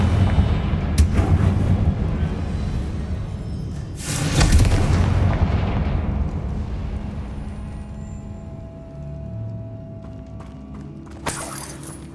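Confringo fire spells in Hogwarts Legacy burst as loud, sharp explosions three times, with the biggest blast in the middle, over a steady low rumble of game ambience.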